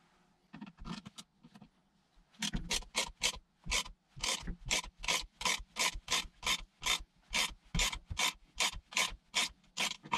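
A bearing being pressed into a motorcycle swing arm with a large socket, heard as rhythmic rasping, grinding strokes that are close and repeated steadily after a few hesitant starts.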